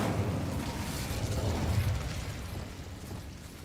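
An Incendio fire spell cast in Hogwarts Legacy gives a sustained, dense whooshing burst of flame with a steady roar that slowly fades over a few seconds.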